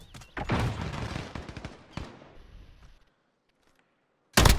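Gunfire in Modern Warfare, a few loud bursts of shots close by in the first two seconds, then a near-silent gap and a sudden loud burst at the end.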